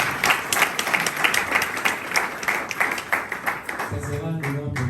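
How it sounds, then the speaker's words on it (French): An audience claps at a talk about a book, a brisk round of applause with individual claps standing out, which thins near the end as a voice comes in over the last claps. "Je crois qu'on peut applaudir beaucoup."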